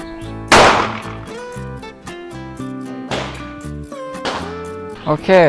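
A LifeCard .22 WMR pistol fires sharp, loud shots one at a time with gaps of a few seconds, each report ringing out briefly amid background sound.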